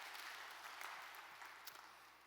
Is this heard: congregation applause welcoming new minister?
yes